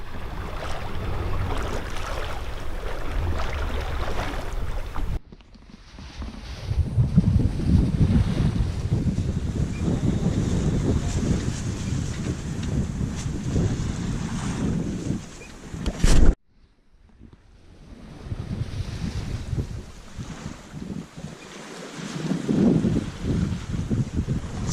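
A Dana 24 sailboat runs under spinnaker on open water near Catalina, with steady rushing wind buffeting the microphone and waves washing along the hull, broken by two brief sharp cuts.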